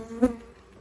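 Honeybees buzz at a single brood chamber hive, a brief close hum swelling and fading in under a second.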